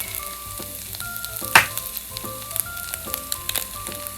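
An egg drops onto sardine sisig frying in a hot pan, giving a sharp burst of sizzle over a steady, close crackle of oil with scattered pops.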